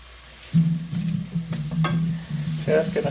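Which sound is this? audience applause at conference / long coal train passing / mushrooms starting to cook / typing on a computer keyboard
mushrooms starting to cook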